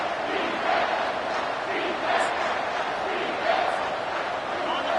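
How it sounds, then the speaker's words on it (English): A football stadium crowd gets behind the defense on third down, a dense, sustained roar of many voices that holds steady and loud with occasional whistles rising above it. "Decibels rising as the crowd gets behind this defense on third down."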